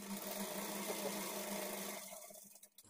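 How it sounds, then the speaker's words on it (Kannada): A sewing machine stitches a blouse lining piece at a quarter-inch margin, a close, continuous rapid whir for about two seconds before it slows and stops. "ಈ ಥರ ಇಟ್ಕೊಂಡು 1/4 ಇಂಚ್ ಮಾರ್ಜಿನ್ಗೆ ಸ್ಟಿಚ್ ಮಾಡ್ಕೊಳ್ಬೇಕು"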